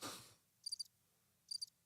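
A cricket chirping sound effect: two short, high, faint trilling bursts about a second apart, following a brief soft noise at the start, with quiet stillness between them and no speech.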